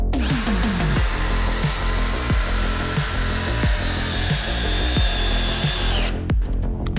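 Flex 12V cordless screwdriver straining to drive a large screw into wood: a loud, continuous motor whine with repeated rhythmic ratcheting clicks of the clutch, ending abruptly with a few clatters.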